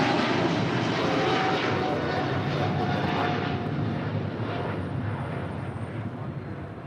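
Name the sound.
Boeing 777 jet aircraft departing from runway at LAX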